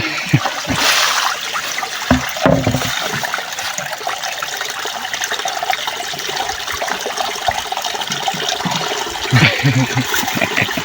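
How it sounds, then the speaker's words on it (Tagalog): Water pours and splashes steadily at an outdoor village water source where people fetch water, a continuous rushing flow with brief louder splashes, with faint voices in the background. "Dito sila kumukuha guys ng tubig."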